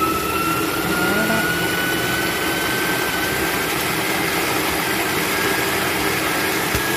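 A Monsieur Cuisine Connect kitchen machine running at speed 5 gives a steady, loud motor whir with a faint rising whine, continuous and unchanging throughout.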